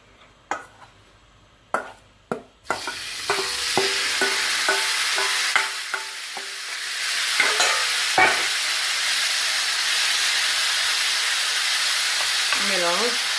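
Shrimp dropped into a hot pan where eggs were just cooked, setting off a loud steady sizzle after a few sharp clattering knocks, with stirring scrapes and spatula taps over the frying.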